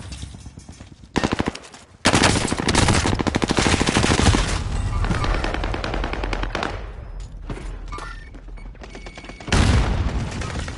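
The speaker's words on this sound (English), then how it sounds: "stun grenade out" A stun grenade bursts during a competitive Z League shooter match, set amid dense, loud rapid gunfire that runs almost continuously with sharp bangs and a fresh heavy burst near the end.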